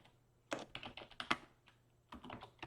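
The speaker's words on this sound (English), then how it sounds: "So we'll type in event manager" Quick bursts of typing on a computer keyboard, close, crisp key clicks in two short runs separated by a brief pause.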